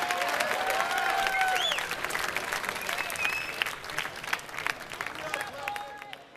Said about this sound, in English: Give a big round of applause for Status Quo and for the performance we saw tonight